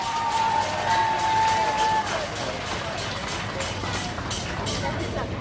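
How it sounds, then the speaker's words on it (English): A crowd at an outdoor groundbreaking ceremony in Portland, Jamaica, claps and cheers for the Prime Minister, a broad wash of applause mixed with crowd babble and a brief whistle-like tone early on. "put your hands together and give the Prime Minister of Jamaica and our special guest a big round of applause"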